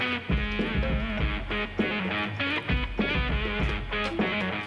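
A ukulele strummed clumsily by someone who is not a musician, loud, steady chord strums repeating in an uneven rhythm with no talking.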